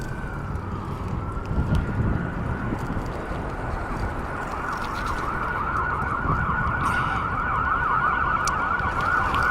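An ambulance siren passing on a Las Vegas street, a loud steady wail that swells as it nears, over constant traffic and wind noise.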